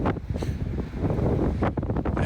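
Strong sea waves surging near a coastal grotto, a continuous rumbling wash of surf with a couple of louder crashes, heavily mixed with wind noise.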